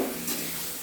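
A little water poured into a hot cooking pan gives a brief, soft hiss and sizzle that fades quickly, with no voices.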